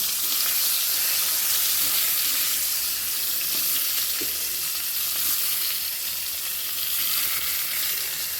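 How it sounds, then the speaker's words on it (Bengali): Salted, turmeric-coated eggplant pieces fry in hot oil, a loud, steady close sizzle and crackle that runs continuously without speech. "তারপর তেলে ছেড়ে দেবো, ভালো করে ভেজে নেবো লাল লাল করে"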